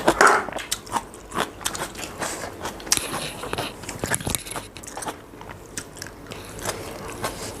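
Close, crisp bites and chewing on dipped pork hot pot with suki dipping sauce, a run of repeated crunchy, wet bites at an irregular pace, with no talking.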